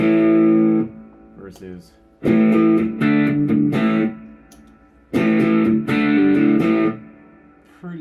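Electric guitar played through a Strymon Deco V2 tape saturation pedal in classic mode, giving lightly distorted, saturated chords in two loud bursts with pauses between, and a brief spoken word in a gap.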